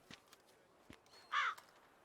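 In The Witcher 3: Wild Hunt video game, a single loud crow caw rings out over a quiet background of faint taps and rustles.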